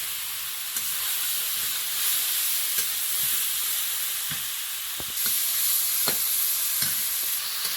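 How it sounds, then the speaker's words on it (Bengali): Shrimp frying in a hot pan give a steady sizzle with occasional sharp pops and stirring clicks, close and continuous without speech. "চিংড়িটা ভালো করে ভেজে নিয়েছি"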